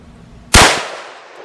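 A single loud, sharp .243 rifle shot fired outdoors at a backpack target, with a sudden crack followed by a ringing decay that fades over about a second.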